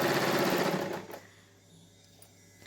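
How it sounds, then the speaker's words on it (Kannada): Sewing machine stitching an old nightie, a fast close mechanical whirring run that stops abruptly after about a second, leaving quiet clicks and faint handling noise. "ಹೊಲಿಗೆ ಹಾಕೋತಾ ಇದ್ದೀನಿ"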